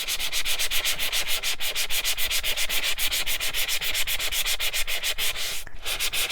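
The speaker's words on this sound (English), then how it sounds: "So as you rub, you'll be able to expose that white core a little bit" Steady, rhythmic scraping as the edge of cardstock is rubbed back and forth, continuous and close, with no voices.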